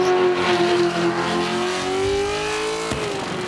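Car burnout in a cage competition, the engine screaming at high, steady revs while the note slowly climbs and wavers, ending with a sharp crack near the finish.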